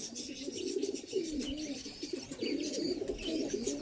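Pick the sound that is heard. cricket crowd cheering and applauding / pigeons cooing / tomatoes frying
pigeons cooing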